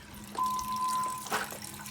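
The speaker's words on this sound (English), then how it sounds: "All the remaining air is being bled out through this hot water side." Air and water sputter and hiss out of the hot water line of a water heater being bled, a close, fairly quiet gurgling trickle with a brief burst near the end.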